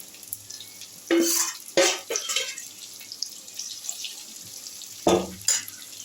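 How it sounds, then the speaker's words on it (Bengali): Soybean chunks fry in a pan and are stirred, giving a few brief scraping, sizzling bursts over a faint steady background, with quiet stretches in between. "আরও কিছুটা সয়াবিন আছে ওটাও ভেজে নিচ্ছি এইভাবে সয়াবিনগুলো তোমরা লাল লাল করে ভেজে তুলে নেবে"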